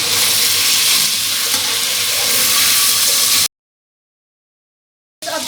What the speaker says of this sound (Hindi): इसको 2 मिनट के लिए जो है हम फ्राई करेंगे ताकि इसकी खुशबू जो है वो निकल आए।